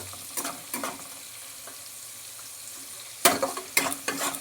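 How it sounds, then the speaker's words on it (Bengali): Onion and grated garlic being fried in a pan for a prawn curry, with soft scraping stir strokes over a low sizzle and a few sharper clatters near the end. "এবার পেঁয়াজ আর রসুনটাকে একটুখানি লাল লাল করে ভেজে নেব"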